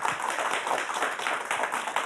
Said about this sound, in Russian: Еще раз эти аплодисменты вам.